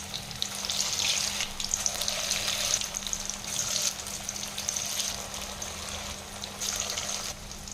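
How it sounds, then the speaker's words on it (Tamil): Potato balls sizzle and crackle as they fry in hot oil, a steady close-up hiss with bubbling bursts that continues throughout without talk. "இந்த மாதிரி உருட்டி நம்ம ஆயிலில் சேர்த்திக்கலாம்"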